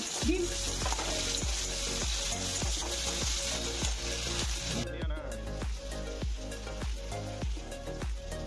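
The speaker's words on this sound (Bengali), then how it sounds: "তো সেই ডিমটা এখন রান্না করছি" An egg fries in a pan. The steady sizzle sounds close, with regular soft scraping or stirring strokes about twice a second running through it.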